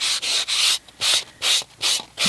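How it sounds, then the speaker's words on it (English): A nail sanding block rubs against the edges of a paper card in short, rhythmic scratchy strokes, about seven close, crisp passes with brief pauses between them. "just grab yourself a sanding block. These are just the nail sanding blocks"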